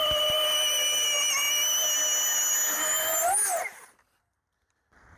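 A 20-inch battery chainsaw runs through wood with a steady, high-pitched electric motor whine. It wavers briefly, then winds down and cuts off into near silence.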